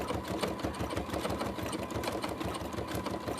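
A sewing machine stitching big stitches on a fabric horse collage, a fast, steady mechanical chatter of needle strokes, close and continuous throughout.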